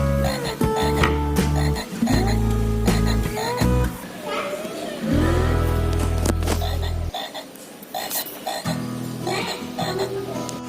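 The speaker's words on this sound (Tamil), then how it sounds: "அந்த பக்கம் யாராவது நடந்தால் இந்த தவளை சத்தம் போடும்." A motion-sensor frog garden toy croaks in loud, buzzing electronic bursts that start and stop in long stretches, with children's voices and chatter mixed in.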